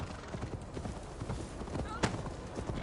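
Rhythmic clip-clop of a horse galloping in Assassin's Creed Valhalla, quick steady hoofbeats with a voice speaking over them.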